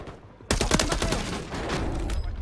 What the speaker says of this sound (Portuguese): Tá atirando em mim, tá atirando em mim.